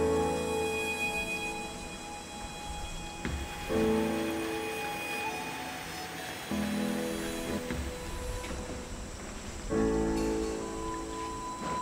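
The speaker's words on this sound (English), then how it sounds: "It's been raining all morning, all lunch, and now it's the early afternoon." Steady rain falls in the highlands of northern Borneo, a soft continuous patter and hiss of drops on surfaces and foliage, with faint intermittent knocks and ticks and no voices.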